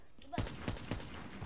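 Rapid bursts of gunfire from a Black Ops 3 match, several sharp shots clustered close together over a steady background of game noise and faint talk.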